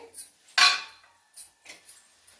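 A metal lid set down on a pan of potato fry gives one sharp clatter and ringing, followed by a few lighter clinks of cookware close by, with no talking.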